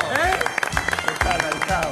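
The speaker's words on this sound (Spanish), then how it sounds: "Fuerte el aplauso para un" Studio audience applause on an Argentine television variety show, loud and continuous close clapping that swells under music and crowd noise.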